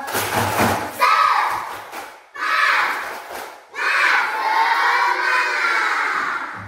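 Schoolchildren in a classroom perform a spirit-clap chant, three loud bursts of rhythmic clapping and shouted voices separated by short pauses.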